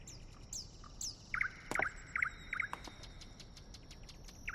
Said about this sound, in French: C'est peut-être un rossignol. Oh, je ne savais pas qu'il existait un oiseau qui chantait au point du jour.